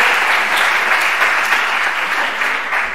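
Sustained applause from an audience at a science outreach talk on math that looks like magic, thanking volunteers; dense, steady clapping at fairly even loudness throughout, with no talk over it.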